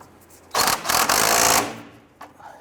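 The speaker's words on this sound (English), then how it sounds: "Let's tighten down our castle nut." An impact or power tool tightens a castle nut on the inner tie rod of a 1994-2004 Ford Mustang, giving one loud, close, continuous burst of about a second before it cuts off.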